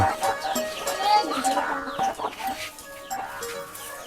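Farmyard chickens cluck and squawk close by in a busy, irregular chatter while other hens approach, with a few higher calls mixed in and faint human voices in the background.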